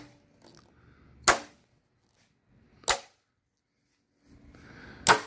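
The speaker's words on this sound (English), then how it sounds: "This magnet is just grabbing it hard everywhere." Three sharp, loud clacks spaced a second or two apart as a magnet snaps onto the steel body panels of a tidy, older-paint 1967 Volkswagen Karmann Ghia convertible, with quiet handling rustle between them.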